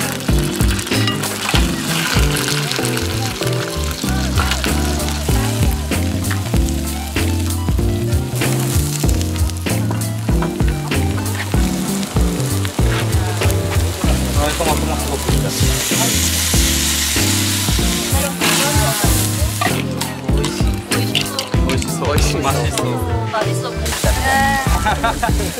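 Ingredients sizzle and fry in olive oil in a pan, a loud continuous crackle with stirring, while music plays prominently over it and a voice talks.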